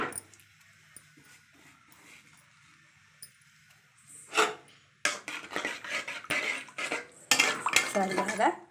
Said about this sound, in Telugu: బాగా ఇలా కలిపేయండి.